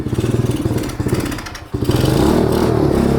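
A cheap 125cc pit bike engine idles with a rapid, uneven putter, dips briefly, then picks up into a louder, steadier running drone, close by with no talking.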